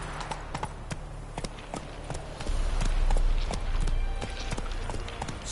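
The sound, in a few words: horse galloping, from video game The Witcher 3: Wild Hunt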